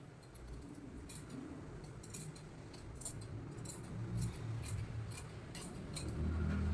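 Scissors snipping through blouse fabric to shape the armhole, giving a steady run of crisp, evenly spaced cuts close up over a low background hum.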